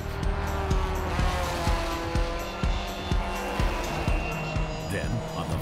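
Stock cars racing on a short track, engines roaring under race commentary with repeated sharp tire squeals and skids as the pack battles through traffic.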